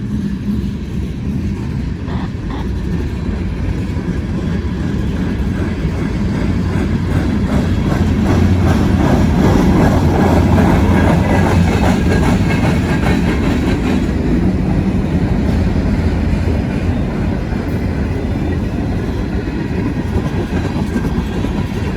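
A loud freight train rolls past close by, its steady rumble broken by repeated rhythmic thumping from flat spots on its wheels.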